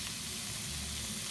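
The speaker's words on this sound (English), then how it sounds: "Sizzle, sizzle, bad boy." Turkey mince sizzles steadily in a hot pan, a close, even crackling hiss with no voices.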